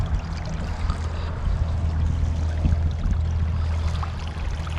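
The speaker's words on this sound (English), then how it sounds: "Here's my little bow wave." Steady rushing and gurgling of water pushed up as a bow wave by a jon boat fitted with pontoons, with a low motor hum underneath, continuous and close.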